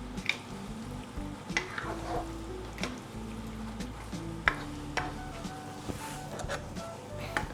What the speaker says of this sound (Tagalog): Tsaka natin haluin.